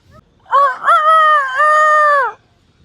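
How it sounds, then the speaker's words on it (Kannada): A rooster crows once, loud and close, a drawn-out harmonic call lasting under two seconds, set against a quiet village backdrop. "ಕೋಳಿ ಕೂಡ ನಮ್ಮನ್ನು ವೆಲ್ಕಮ್ ಮಾಡ್ತಿದೆ."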